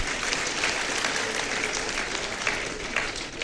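Crowd applause for a trustee at a national polytechnic graduation ceremony, broad continuous clapping from many people outdoors, steady and full for the whole stretch without speech on top.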